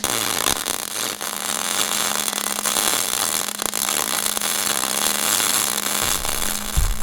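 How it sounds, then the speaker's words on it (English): Welding the top side of a plow disc griddle, a loud, continuous crackling buzz held steadily for several seconds, close up, with a low hum underneath and no speech. "Now it's time to weld up the top side."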